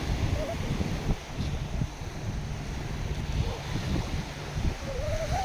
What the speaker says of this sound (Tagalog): Ngayon mahangin eh. Mahangin, no? Maalon